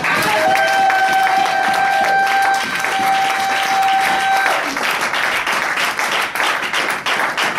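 A church congregation applauds loudly, dense clapping and some cheering over sustained keyboard notes that drop out partway, the clapping continuing in uneven bursts afterward.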